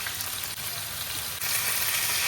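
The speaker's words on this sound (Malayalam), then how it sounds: "മത്തി ഓരോന്ന് വെച്ച് കൊടുക്കാം." Sardines frying in a pan, a dense, steady close sizzle of hot oil with no talking.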